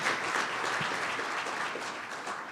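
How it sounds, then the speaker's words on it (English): Audience applause for officials at a State of the City event, steady clapping from a crowd filling the room with a dense even roar that eases slightly near the end. "Let's give them a round of applause."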